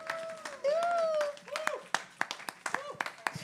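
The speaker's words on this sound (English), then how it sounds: "I don't know why we're clapping." Congregation clapping during an online Sabbath service, scattered sharp claps that start after a sustained tone and talk, then continue in uneven bursts.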